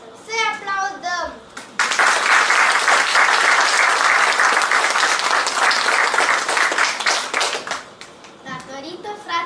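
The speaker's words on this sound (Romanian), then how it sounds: "Să-i aplaudăm!" An audience at a children's theatre show breaks into loud, dense applause that swells after a brief sung or spoken opening and fades out, with young voices heard before and after.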